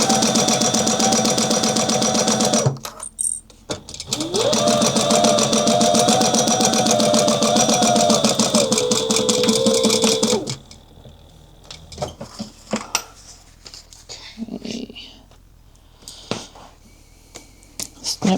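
A home sewing machine stitches the side seam of a fabric clutch wallet, running in a steady rapid whir for about ten seconds with a short pause, then stopping for quieter handling clicks.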